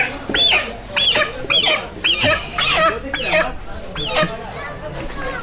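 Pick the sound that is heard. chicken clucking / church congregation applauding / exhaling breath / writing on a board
chicken clucking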